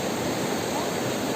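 Water rushing through the Anjuruli tunnel in Idukki, Kerala, a loud, steady, dense roar of flowing water filling the whole moment without break, no voices.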